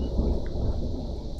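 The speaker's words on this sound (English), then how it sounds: "There's a bit of a storm going, so might have some issues." Steady broadband roar of rain with a low rumbling thunder undertone from a thunderstorm in the Minecraft video game, continuous and fairly loud throughout.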